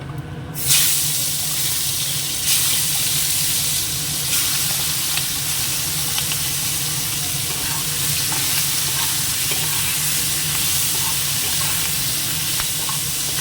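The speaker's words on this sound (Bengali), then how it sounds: "এবার মাছটা একটুখানি ভেজে নেব" Fish frying in hot oil with dried chilli and cumin, a steady loud sizzle and crackle running throughout with brief stir scrapes, no talk over it.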